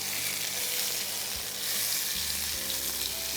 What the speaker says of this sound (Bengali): এবার আমি টমেটোটা দিয়ে দিচ্ছি।